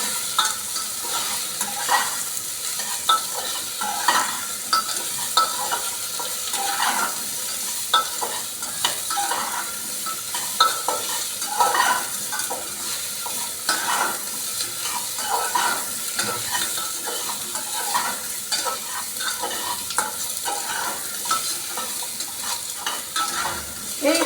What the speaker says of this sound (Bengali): আলুগুলো দেওয়ার পর আমি আবার একটু নাড়াচাড়া করে নেব